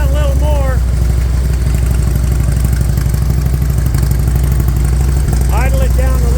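A 2001 Harley-Davidson Electra Glide with a carburetor and idle problem idles loudly and close by, its low engine throb pulsing evenly and continuously while people talk over it now and then.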